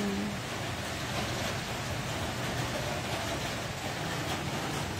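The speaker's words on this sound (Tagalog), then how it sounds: "Walang tigil ang ulan." Steady rain pours down without letup on a wet morning, a dense, even hiss of drops that holds at a constant moderate level throughout, with no voices.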